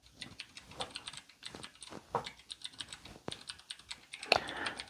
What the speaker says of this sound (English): Ah, office noises. I can fall asleep to typing.